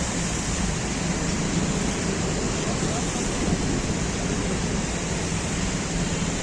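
Loud, steady roar of rushing floodwater after heavy rain in Pune, broadband and unbroken throughout, like a powerful current surging close by.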